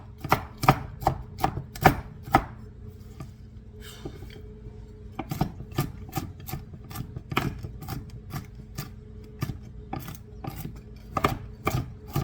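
Mixed nuts being chopped with a knife for muffins, giving a steady run of crisp, close knocks on the board with a short pause partway through and no talking.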